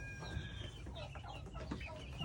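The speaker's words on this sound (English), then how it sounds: "Those are the baby guineas. So they already kind of make that loud noise that the other guineas do outside." Baby guinea fowl chirping and calling on a farm, a busy overlapping chorus of shrill peeps close by, continuous with no talk.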